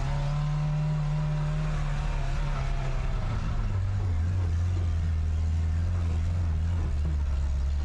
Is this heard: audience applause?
no